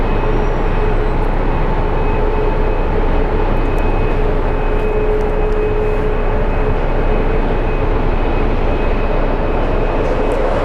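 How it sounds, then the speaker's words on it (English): An MD-11 airliner arrives at Phoenix Sky Harbor airport, its loud, steady jet roar filling the whole stretch without a break. "MD-11 coming in"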